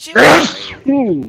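One loud, close sneeze bursts out sharply, and a voice speaks right after it.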